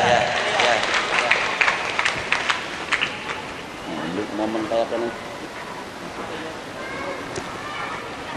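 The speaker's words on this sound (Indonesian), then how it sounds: "Tepuk tangan yang meriah." Applause rises from the audience at a graduation ceremony, a broad clapping wash under voices and murmuring, loudest early and then fading into crowd talk.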